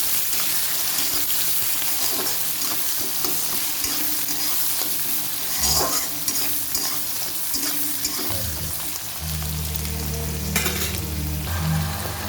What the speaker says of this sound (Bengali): তেজপাতা পাঁচফোড়ন ফোড়ন দিয়েছি, দিয়ে পেঁয়াজ কুচিটা ফোড়ন দিয়ে দিলাম।